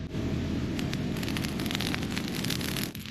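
A campfire on an island flares into a loud, steady roar of rushing flame with dense crackling, close by and continuous before dropping off at the end.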